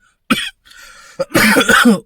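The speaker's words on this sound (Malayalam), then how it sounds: "ഭയങ്കര ചുമയും പനിയാണല്ലോ" A few harsh coughs from one person, close and loud, with a brief pause between the first bursts and a longer fit at the end.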